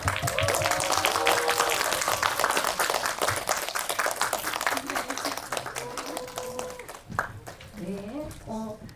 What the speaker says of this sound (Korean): 자리로 들어오시면 큰 박수 부탁드릴게요